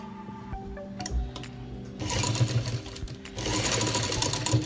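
A sewing machine stitches fabric for a baby cap in short bursts, starting with brief taps and then running in two longer steady whirring stretches, close and moderately quiet with no talking.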